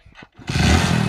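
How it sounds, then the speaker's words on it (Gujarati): A motorcycle engine starts after a few faint shuffling sounds. It catches suddenly and settles into a loud, close, steady running note with no talk. "બાઈક ચાલુ કરવા દો"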